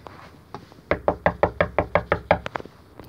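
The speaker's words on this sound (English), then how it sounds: "Knock again." Knuckles rap on a house door in a quick, even series of about eleven firm knocks, close and loud, after a couple of lighter taps.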